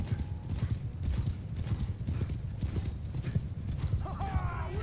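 Horses gallop across a battlefield in Mount & Blade II Bannerlord, a dense, steady drumming of many hooves up close, with a horse whinnying briefly near the end and game sounds mixed in.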